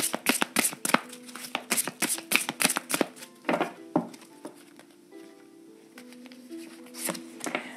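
Tarot cards are shuffled by hand for a reading, with a quick run of crisp riffling snaps, a pause, then further softer shuffles and taps, close and clear with no voices.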